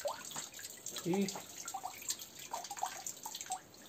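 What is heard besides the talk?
beeswax foundation sheet rinsed of soapy water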